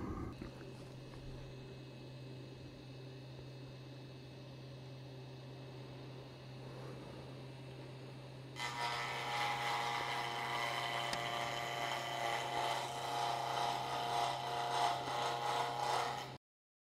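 Wood lathe turning a soft-wood sea urchin Christmas ornament finial with a carbide tool: a steady low motor hum, then a louder, rough scraping cut that starts midway and continues to the end, with no talk.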